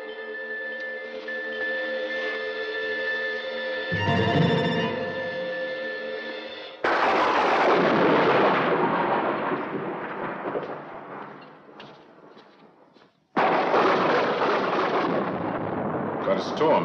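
A loud, heavy thunderstorm with deep rumbling thunder and rushing rain, rising in sudden swells and breaking off abruptly, close and dominant with no talk.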